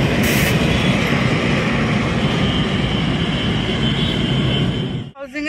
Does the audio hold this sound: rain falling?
no